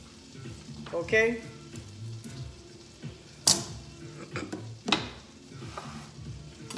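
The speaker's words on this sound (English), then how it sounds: "So I got my butter in the frying pan." Butter sizzles in a frying pan with a steady low crackle, joined by stirring scrapes and a few sharp utensil clinks against the pan, while a person speaks briefly.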